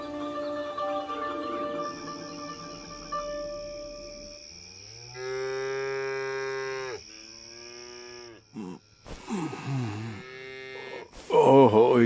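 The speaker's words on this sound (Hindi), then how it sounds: "ये तो गाय भैंसों की रांभने की आवाजें हैं" Cows and buffaloes lowing at night, several long, drawn-out moos in a row, some overlapping, moderately close, with no talk over them.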